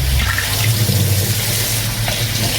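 Tap water runs steadily into a sink as fish is rinsed, a continuous loud splashing rush with no pauses.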